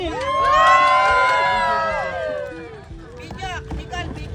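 A group of voices erupts in loud, sustained cheering and shouting nearby on Boracay, swelling then tapering off into scattered excited calls.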